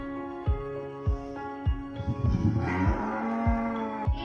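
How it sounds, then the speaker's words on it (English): A bull lets out a low, drawn-out moo over steady rhythmic drum beats and sustained tonal music, the call swelling loud and close in the middle before the beat continues alone. "Re, the bull."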